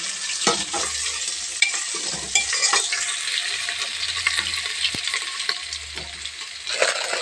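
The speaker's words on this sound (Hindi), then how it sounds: "डाल देंगे आलू" Diced potatoes sizzle in hot ghee with cumin seeds while a utensil stirs and scrapes the pan in scattered bursts, a steady close frying hiss underneath and no talking.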